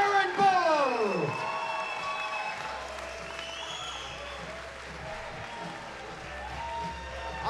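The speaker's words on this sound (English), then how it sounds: "Both deserve a round of applause." A pro wrestling crowd applauds and cheers after a championship match. A continuous wash of clapping sits under an announcer talking loudly over the arena noise.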